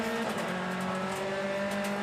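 Onboard a BTCC touring race car at Thruxton, a loud, steady high-revving engine drone with tyre noise, continuous and close throughout.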